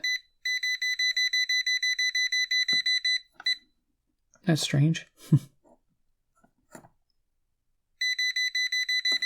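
A Kaiweets KM602 digital multimeter gives a steady electronic beeping tone continuously while detecting live wires, cuts out while a person speaks briefly, then the beeping resumes near the end.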